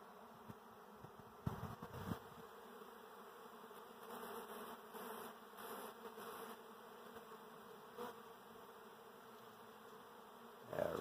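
A honeybee swarm in the air around a tree limb, a continuous faint buzzing hum with individual bees droning closer in brief swells, and no voices over it.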